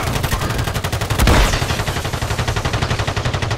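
Rapid automatic gunfire in a battle royale video game, a dense, loud, evenly spaced string of shots with a heavier blast burst in the middle, no talking.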